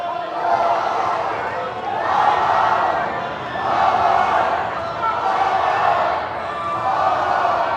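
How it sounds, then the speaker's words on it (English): A basketball fan section at a boys' high school tournament game chants loudly in repeated rising-and-falling waves, a dense crowd roar that swells about every two seconds in a gym. "Fan section cheering what I can only assume is Go Pioneer."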